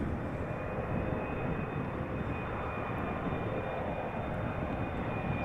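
A Boeing 777 arriving at Amsterdam Schiphol in crosswinds from Cape Town gives off a constant loud jet roar with a thin high whine, unbroken and steady, no voices present.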